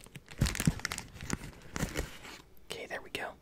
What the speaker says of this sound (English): I actually kinda like the sound of this paper.